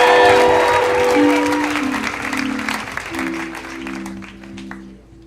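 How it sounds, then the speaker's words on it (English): A crowd at a storytelling slam applauds loudly, clapping fading gradually while music plays underneath, thinning to scattered claps by the end. "Keep that applause going for Lisa Dickey."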